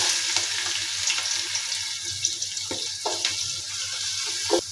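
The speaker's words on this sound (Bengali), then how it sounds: "তো পেঁয়াজটাকে আমি গোল্ডেন ব্রাউন করে ভেজে নেব।" Onions fry in oil with whole peppercorns and cardamom for a spicy pulao, a steady close sizzle with occasional stirring knocks and scrapes, no talking.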